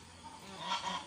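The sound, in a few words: goose honking after laying an egg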